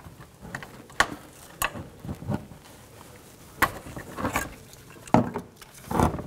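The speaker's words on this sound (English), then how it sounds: "Try to get underneath it with a trim tool." Sharp plastic clicks and scraping snaps from a trim tool prying a connector retainer loose on a 2007-2014 GMC Sierra 3500 HD, several separate close-up clicks spread irregularly, no talking.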